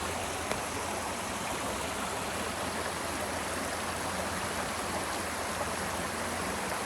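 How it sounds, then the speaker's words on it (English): Two mountain creeks merging, a continuous rushing and babbling water flow that stays even and fairly loud throughout, with no voices. "Two creeks coming together."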